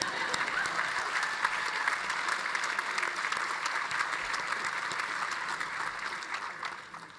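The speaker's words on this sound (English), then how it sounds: "You can clap." A large audience at a university commencement ceremony in Vermont claps steadily and evenly throughout, a dense, sustained wash of applause with no clear voices above it.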